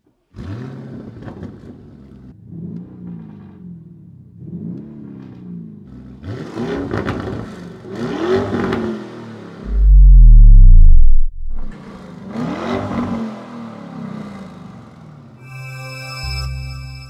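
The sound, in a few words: 2024 Lamborghini Urus Performante engine revving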